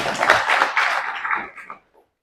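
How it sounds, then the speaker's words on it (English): Students of a school human rights club applaud themselves, a short, dense burst of many hands clapping that quickly thins out and stops. "Put applause for yourself."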